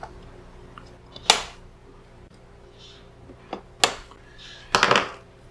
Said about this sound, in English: Okay, so cut off these excess pieces.